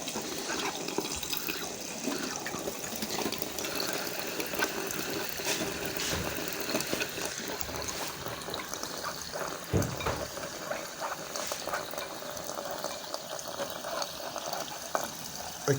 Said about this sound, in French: Je laisse couler les jets d'eau dans les tamis.